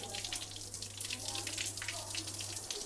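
Carrots for carrot halwa being washed in running water, heard as a steady, fairly faint hiss of flowing water with soft splashes throughout.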